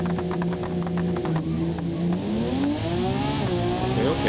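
Two supercars drag racing in BeamNG, a Lamborghini Aventador and a Porsche Turbo S, their engines revving hard and climbing in pitch through the gears, loud and close with a shift dip partway through.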